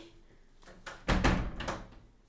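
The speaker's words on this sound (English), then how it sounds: "Ew, wait, I'm closing my door." A room door in a home swings and shuts with a solid thump near the mic, followed by a brief rattle of the latch, no talk over it.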